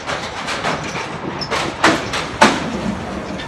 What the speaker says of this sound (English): You see the GO train? That's the GO train.